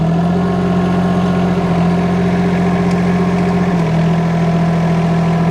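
A mini excavator's diesel engine idles steadily, then steps up to roughly a third of its revs near the end, a loud continuous hum close by.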